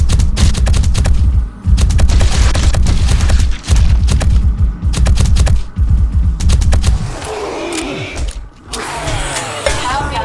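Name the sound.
gunfire from a video game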